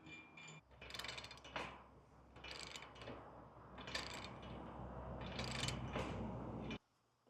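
A ratchet tightens a Curt tray cargo carrier, with bursts of rapid metallic clicking that repeat in several close, loud strokes before stopping abruptly.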